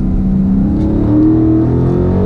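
A 2016 Dodge Charger R/T Scat Pack accelerating hard, a loud, deep, steady engine drone with rising harmonic tones heard from inside the car, sustained for the whole stretch.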